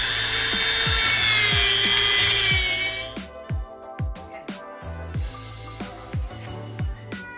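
A high-pitched whining Dremel rotary tool cuts plastic hood vents on a 2014 Genesis Coupe 3.8 for a few seconds, then stops, followed by scattered knocks and scraping handling sounds.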